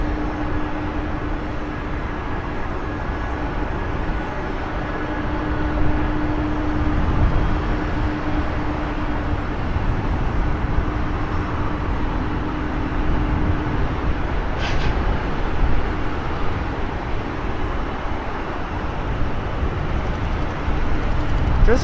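An MD-11 jet passes at Portland airport, a broad, steady roar that swells slightly and holds at a moderate distance, with no talk over it.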